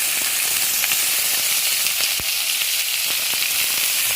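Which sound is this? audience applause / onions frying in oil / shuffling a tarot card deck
onions frying in oil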